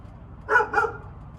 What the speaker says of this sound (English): Sorry, excuse my barking dogs.